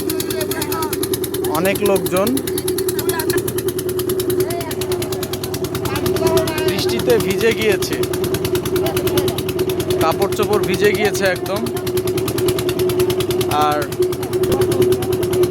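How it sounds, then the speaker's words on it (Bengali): A motorized passenger boat's engine drones with a steady, continuous hum on a swollen river in the rain, while someone talks over it throughout. "তো আমি ইঞ্জিন চালিত নৌকায় আছি"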